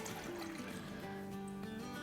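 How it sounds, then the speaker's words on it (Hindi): Water, about two cups, poured into a cooking pan in a home kitchen, a continuous close filling sound with a rising tone as the pan fills, steady and unbroken for two seconds. "इसमें डालेंगे अराउंड 2 कप पानी।"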